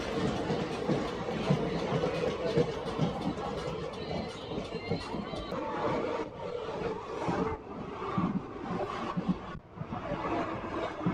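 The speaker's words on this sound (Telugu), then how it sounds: "ఇమాంపూర్కి మన ట్రైన్ చేరుకుంది" A Guntakal–Tirupati passenger train runs steadily on the rails, its dense rolling rumble and clickety-clack wheel rhythm continuous and close, with the clatter of the carriage ebbing briefly in places.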